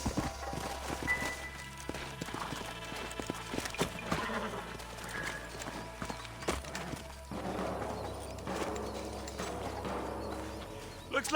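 Horses' hooves clop at a steady walking pace in Red Dead Redemption, under a busy game soundscape with music and ambient noise, occasional animal calls mixed in.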